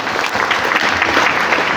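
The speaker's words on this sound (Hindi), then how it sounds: "तो जोर से ताली बजाओ अगर बात में दम है तो।" Loud, dense clapping from an audience at a marketing skills training session in Kathmandu, Nepal, a continuous burst of applause filling the whole moment with no talk over it.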